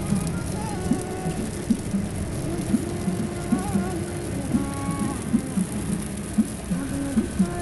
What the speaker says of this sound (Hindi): बारिश हो रही है बहुत ज्यादा तेज